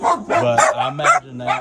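A dog barks and yips several times in quick succession nearby, loud and clear, while someone speaks over it during a 2015 Ford F-250 front passenger door repair.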